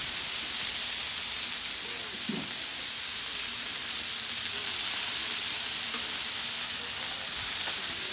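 Burgers sizzle on a Blackstone griddle with a steady, bright frying hiss that runs without a break, plus a few faint scrapes and clicks underneath.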